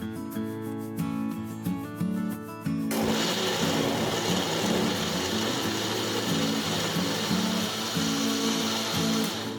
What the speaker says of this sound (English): six to 7 garlic cloves, 1 inch of ginger, and blend everything well